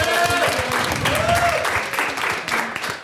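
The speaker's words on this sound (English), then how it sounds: "we need to have a special round of applause for Nan Fu Wang" An audience at a Sundance panel on documentary filmmaking gives a sustained wash of applause, dense and fairly loud throughout, with faint voices mixed into the crowd noise.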